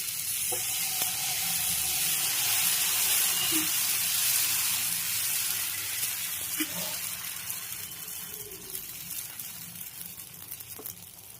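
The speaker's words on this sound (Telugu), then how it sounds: "ఆయిల్లో అప్లై చేసి దోశ పోస్తే బాగా వస్తుంది దోశ." Millet dosa batter sizzling on an oiled pan with onions, a steady bright hiss that slowly fades, with a few soft clicks and a voice speaking faintly over it.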